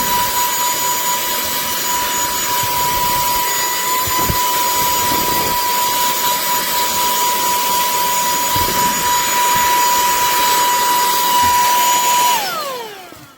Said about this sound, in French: super mini aspirateur, bien puissant